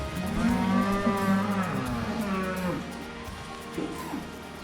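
A cow on a farm during hoof care gives a long, loud, close moo that rises and falls, followed by lower grunting calls and faint rustling.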